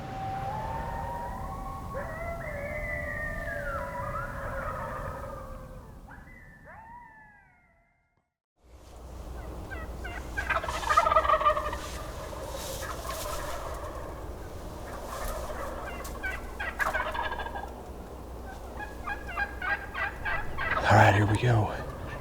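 Wild turkeys gobble repeatedly from their roost, several birds calling in loud overlapping bursts at moderate distance, then a short lull before fainter, scattered gobbles resume amid ambient woodland noise and light rustling nearby.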